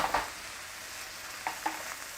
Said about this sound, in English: we're going to cook that till it thickens a little bit with the spinach